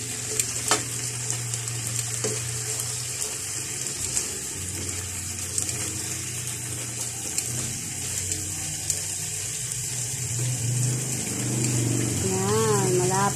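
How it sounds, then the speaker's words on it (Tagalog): Food fries in a pan with a soft, continuous sizzle and occasional crackles, accompanied by faint background hum and a brief voice near the end. "Malapit na po yan maluto"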